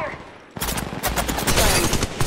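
Gunfire in the Apex Legends Mobile video game breaks out after a quieter opening and becomes a loud, dense run of rapid automatic shots that continues to the end.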